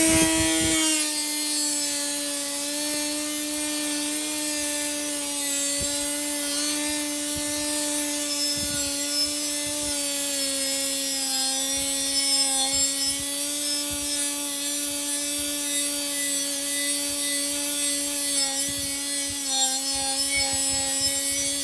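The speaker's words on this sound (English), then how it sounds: "We have this polyurethane non-woven like paint stripping disc." Hercules 12V brushless die grinder spinning a polyurethane non-woven paint stripping disc, a steady high-pitched whine held close and loud for the whole stretch, with scratchy rubbing as the disc works the surface.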